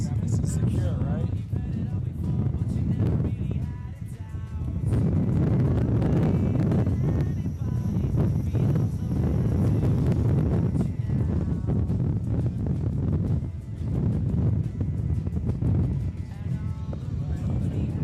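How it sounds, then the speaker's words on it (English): A strong gust of wind buffets the microphone at Sebring Raceway, a loud sustained low roar and rumble lasting throughout, with some talk underneath. "we're getting another strong gust of wind up here"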